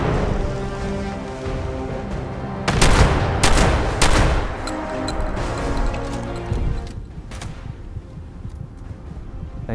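Shotgun blasts in the Fallout 76 video game, several loud broadband bangs clustered in the first half, then lighter impacts over a steady game soundscape.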